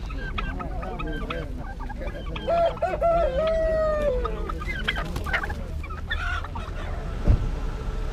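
Bantam chickens cluck and squawk in a lively chorus at a spring poultry market, with a longer warbling call partway through, over a busy, noisy market background.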